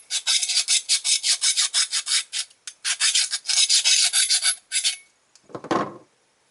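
A serrated knife edge drawn repeatedly through an Accu Sharp 4-in-1 knife and tool sharpener, a close rhythmic series of raspy scraping strokes, about a dozen quick passes, then a final separate scrape.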